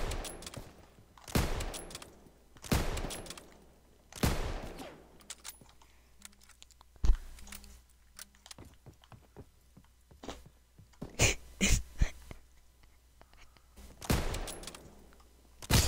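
Gunfire in the Call of Duty World War II video game during multiplayer sniping: several loud, sharp shots spaced a second or two apart, with a cluster of quicker cracks near the end and faint clicks between.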